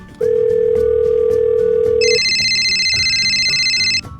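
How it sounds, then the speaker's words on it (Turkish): An electronic toy telephone rings with a repeating tone that shifts to a higher warbling ring, loud and close, with no voices. "Ah telefon çalıyor."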